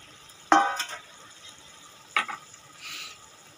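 Fried cauliflower goes into a pan for a beetroot and cauliflower sabzi, and two sharp metallic scrapes of stirring rise over a soft, constant sizzle.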